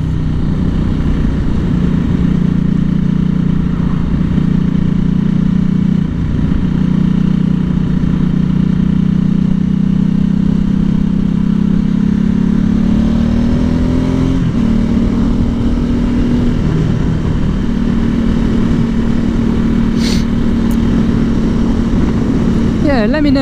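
A motorcycle rides along with a loud, steady engine drone, a smooth rise in pitch partway through and constant road and wind noise, while a rider talks over it throughout.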